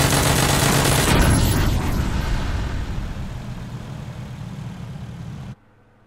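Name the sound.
UAZ vehicle exploding in a video game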